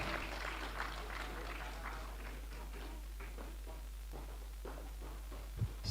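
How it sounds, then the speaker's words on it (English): A school awards ceremony audience applauds for Year 11 and Key Stage 4, a dense, steady patter of clapping that stays faint and distant for several seconds. "Can we have one more big round of applause for Year 11 and for Key Stage 4?"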